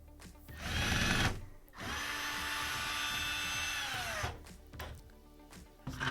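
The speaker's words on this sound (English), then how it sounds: "So I'm taking out these 3 screws holding on the pump." A power drill with a Phillips bit backs out three screws holding the drain pump on an LG washer-dryer combo, each run a steady whine that falls in pitch as it spins down, with short gaps and bumps between.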